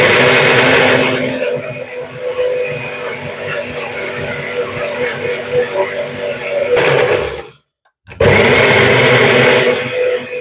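A loud mixer grinder grinding raw mango with water whirs steadily, cuts out for a moment near the end, then starts up again at full power.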